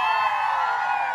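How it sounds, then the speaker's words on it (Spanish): A carnival crowd in El Copal, Tihuatlán, Veracruz, lets out a loud collective shout and cheer, a dense sustained roar of many voices, brief and close. "Un grito así de carnaval,"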